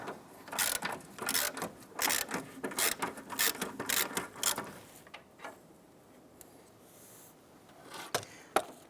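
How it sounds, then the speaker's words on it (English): Rapid ratchet clicks from a 19mm socket loosening lug nuts on a 1999–2004 Jeep Grand Cherokee 4.7L V8, several bursts of quick ticking close up, then quieter pauses with a final sharp click. "Using your 19mm socket, loosen and remove the lug nuts."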